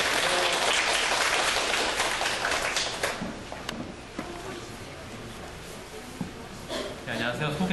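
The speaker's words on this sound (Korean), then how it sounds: "박수로 환영하겠습니다" An audience claps to welcome a speaker at a Korean science teachers' gathering, the applause loud at first, then thinning and dying away before a brief renewed patter at the end.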